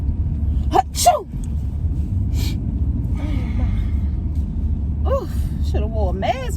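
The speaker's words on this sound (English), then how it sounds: "I know you just didn't sneeze on me" A person sneezes inside a car in traffic, with a sharp burst and gasping breaths early on, over a steady low engine rumble, followed by other vocal sounds and brief talk.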